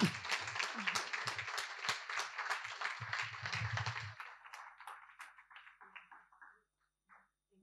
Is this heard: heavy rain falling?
no